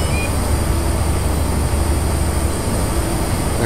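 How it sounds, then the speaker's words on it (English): A Class 55 Deltic train in the Railworks 3 game passing close by, a loud continuous rumbling roar with steady engine drone across the whole stretch, no talk. "Class 55 Deltic now passing us on the right."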